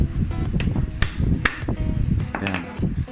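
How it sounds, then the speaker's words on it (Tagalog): Sharp metallic hammer taps strike repeatedly at an uneven pace, close and loud, seating a knuckle bearing on a Yamaha Mio scooter, with a faint ringing after some blows. "Pag nagpupukpok kayo malalaman nyo sa tunog kung nasa dulo na ba."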